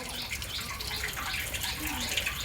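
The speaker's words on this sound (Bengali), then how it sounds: "প্রথম ডেগের পানি লইতেছে।" Water pours steadily into a large cooking pot being readied for khichuri, a continuous close rushing and splashing with no break across the moment.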